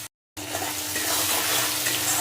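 Onions and tomatoes sprinkled with salt fry in a pan with a loud, steady, close sizzle that runs without a break after a brief silent gap at the start, with faint stirring under it.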